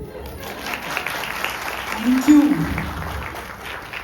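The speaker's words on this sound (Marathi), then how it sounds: "आम्ही टाळ्यांचा आहेर स्वीकारतो." Audience applause at a Marathi dohale jevan (baby shower) gathering, a steady patter of clapping that swells briefly midway, with a voice speaking a short word over it.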